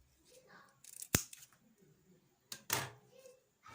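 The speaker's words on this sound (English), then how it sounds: "I will measure 20 inches on my elastic and cut" Scissors snip through elastic cut to length for a tutu waistband, two or three sharp close cuts separated by quiet handling sounds.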